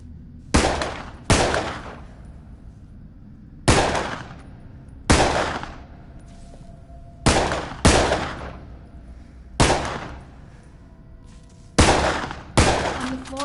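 Gunfire in a VR shooting video game aimed at a zombie: about ten sharp, loud shots in irregular bursts, some in quick pairs, each with a short echoing decay and no talking.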